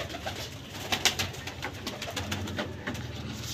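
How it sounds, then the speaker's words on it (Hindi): A young male Teddy cross flying pigeon coos in low, repeated throaty murmurs, close but faint beneath steady background noise, with no talking. "सलारा कबूतर है, पट्ठा है अभी"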